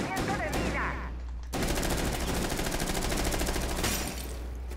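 Video game gunfire, loud and dense: a rapid machine-gun-like stream of shots runs almost continuously, briefly breaking off before resuming at full intensity.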